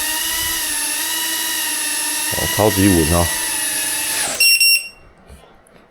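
A Tornado 25 2.5-inch FPV drone, upgraded to 22.8V high power, whines steadily close by as it hovers on a test flight, its rotor tone shifting briefly as someone speaks over it, then stops abruptly with a few chirping beeps.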